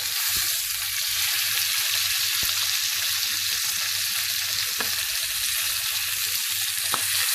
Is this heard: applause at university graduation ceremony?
no